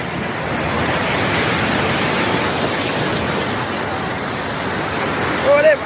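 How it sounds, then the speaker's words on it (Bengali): A big ocean wave breaks onto the beach in a continuous loud rushing wash that holds steady throughout, with a brief voice near the very end. "ওরে বাড়া, বড় ঢেউ আসছে রে।"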